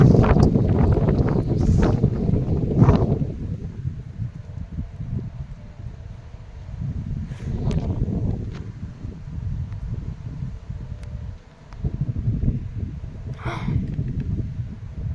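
Strong thunderstorm wind in Lorraine buffets the microphone in heavy, surging gusts that swell and ease, loud and rumbling, with no voices.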